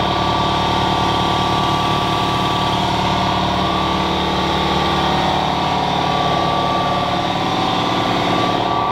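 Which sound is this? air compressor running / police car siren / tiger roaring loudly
air compressor running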